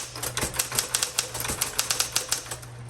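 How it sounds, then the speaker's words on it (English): A 1960s Smith Corona Coronet electric typewriter typing onto paper: a steady run of crisp keystrokes in a fairly even rhythm, close and alone, over the faint low hum of the running motor. "Smith Corona electric, just electric."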